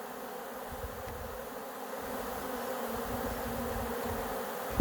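Dense swarm of bees buzzing continuously around a hive during outdoor feeding, a steady loud drone with no voices.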